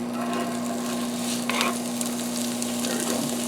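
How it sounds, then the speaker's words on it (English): Raw meatloaf mixture is dumped into a hot cast iron pan and sizzles loudly and continuously, a dense frying hiss with a faint steady hum underneath and a brief scrape as it settles. "I'm going to be cooking the meatloaf in the cast iron. Okay, now you can start hearing that sizzle."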